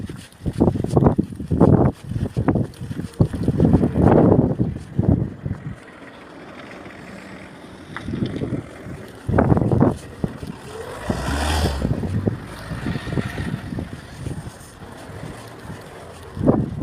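Bursts of wind buffeting the microphone come and go in loud gusts, with calmer stretches between them.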